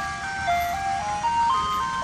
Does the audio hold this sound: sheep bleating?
no